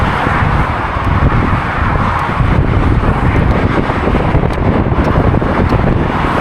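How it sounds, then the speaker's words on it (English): Steady, loud wind rushing and buffeting against the microphone throughout, a constant low roar with no voices. "It's so windy. The wind feels amazing."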